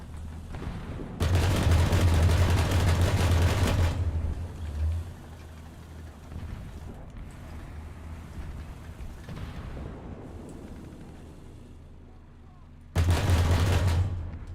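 Heavy weapons fire in a naval combat game: a dense, loud roar of sustained gunfire lasting a few seconds, a quieter stretch of rumble, then a second loud burst at the end.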